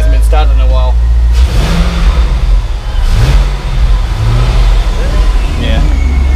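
A C5 Corvette that had sat unused for a while runs loud and close, its engine idling roughly with a couple of rising revs. People talk over it.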